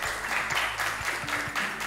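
Studio audience applause welcoming a contestant onto a French-language game show, a steady wash of clapping over low music throughout.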